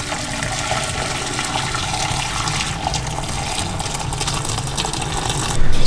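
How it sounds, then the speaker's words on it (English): Homemade fish stock poured through a sieve, a steady close splashing trickle of liquid that runs without a break and swells slightly at the end, with no voices. "We're gonna try to strain this so we just get the liquid."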